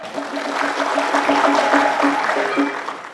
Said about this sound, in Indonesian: Mana tepuk tangannya dulu dong?